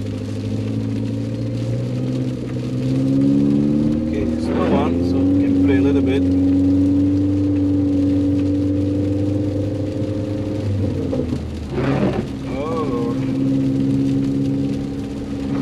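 Mini Cooper S engine droning steadily and swelling as the throttle is pressed while the car slides through snow, heard from inside the cabin, with brief talk from the driver over the engine.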